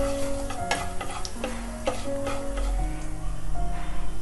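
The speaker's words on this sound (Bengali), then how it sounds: "ফোড়নটাকে তেলে একটু নাড়িয়ে চাড়িয়ে নিচ্ছি।" Four or five cloves, three small cardamom pods, two cinnamon sticks and half a teaspoon of whole cumin fry in hot oil, a steady close sizzle broken by clicks and scrapes as a utensil stirs them.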